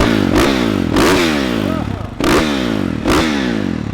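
A motorcycle with an aftermarket FMF exhaust revving hard in repeated bursts, each rev rising then dropping back, loud and close with a rough, throaty exhaust note.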